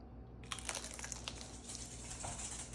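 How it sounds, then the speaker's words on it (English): Ruffles original potato chips bitten into, a close, crisp crunching and crinkling burst that runs for a couple of seconds, with no talk. "Ooh, that crunch."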